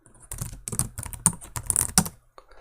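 Computer keyboard typing, a brisk burst of close, clicky keystrokes in an uneven rhythm, ending with a final tap.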